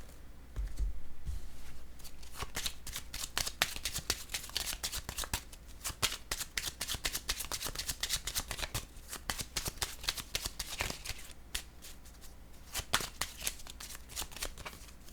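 Playing cards being shuffled and laid out for a tarot-style reading, a close, soft riffling and steady flicking of cards that runs throughout, with a few light taps.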